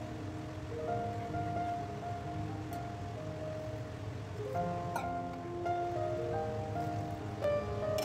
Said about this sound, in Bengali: অল্প পরিমাণে আমি এখানে জল দিয়ে দিচ্ছি